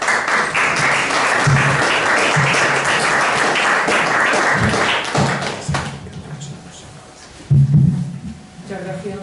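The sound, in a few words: audience applause at a poetry book presentation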